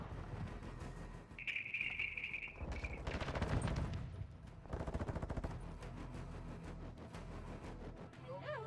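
Rapid automatic gunfire in a Call of Duty match rattles in repeated bursts, with a new assault rifle firing among in-game effects while players talk over the shooting.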